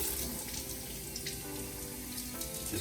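Hot water pours steadily from a tap into a foam cannon bottle, a continuous close splashing rush with a rising, hollow filling tone and no speech.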